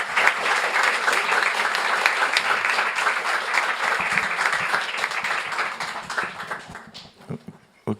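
An audience claps steadily at the close of a bioacoustics conference talk, dense applause thinning out into a few scattered claps at the end.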